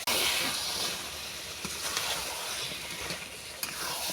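Pieces of duck meat tipped into a pan of fried spices set off a loud burst of sizzling that settles into a steady hiss with occasional stirring sounds, with no voices.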